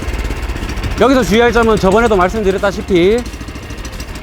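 An Asia power tiller's small engine runs after a recoil start, a low steady rumble beneath a man's continuous speech.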